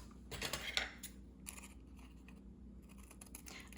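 Scissors snip through paper while journal cards are made, giving a few close, quiet crunching cuts in a hushed room.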